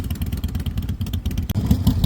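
A motorcycle rides over a rough, unpaved mountain track in Spiti valley, its engine a steady close rumble with clattering and buffeting wind throughout.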